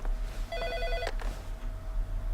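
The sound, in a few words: telephone ringing in the video game Heavy Rain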